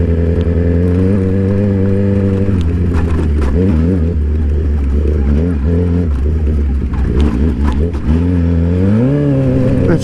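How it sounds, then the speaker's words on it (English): A truck engine labors up a hard-packed dirt road while a sport bike passes. The engine drones loudly and close, with shifting revs, clatter and a rising whine near the end. "The truck should be ashamed of itself. Getting passed by a sport bike."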